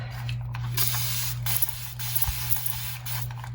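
Water is sprayed into a skull terrarium: a series of short, close hissing mist bursts from a spray bottle, repeated several times over a low steady hum.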